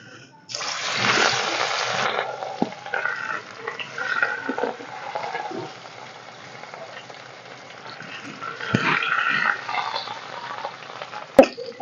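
Katla fish pieces dropped into hot mustard oil in a kadai give a loud burst of sizzling and spattering, settling into a steady crackling fry that swells again near the end.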